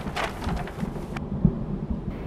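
A thunderstorm sound effect in a comedic ship-themed festival show, with broad rumbling noise and rain-like hiss that drops away after about a second, leaving a low steady rumble alone without voices.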